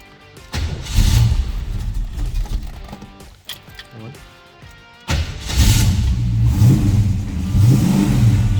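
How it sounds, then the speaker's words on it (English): A 1976 Holden Torana LX hatch with a 308ci V8 revving up from idle, its exhaust note rising in two strong bursts with a brief lull between, loud and near, with no talking. "Very good exhaust note."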